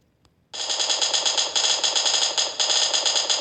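Sustained rapid automatic gunfire in a video game rattles loudly and continuously after a brief quiet start, with a slight break partway through.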